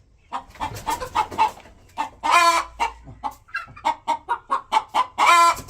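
Several chickens cluck in quick, repeated bursts close by, with louder squawking calls breaking in twice.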